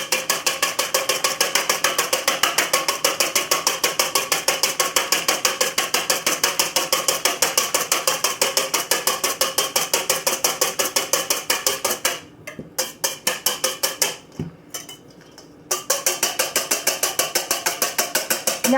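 Sweet potato pie filling beaten by hand, a fast, loud, even clacking rhythm of strokes that pauses briefly near the end before resuming.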